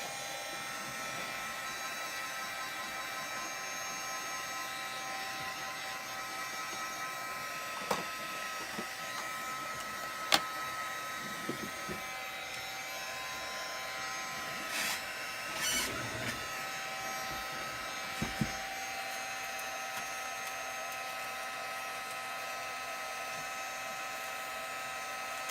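A hair dryer blows steadily to dry a paper bag art journal, a constant whirring drone across the whole span with a few faint clicks and knocks on top and no talk.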